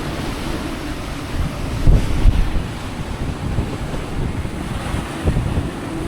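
Strong wind buffets the microphone over steady surf and breaking waves while a sailboat runs downwind in a big swell at about 33–34 knots, a loud, continuous roar with gustier surges around the middle.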